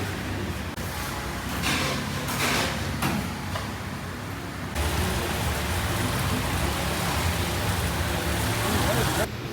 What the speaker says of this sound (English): the rain is just not stopping. It's coming down heavy.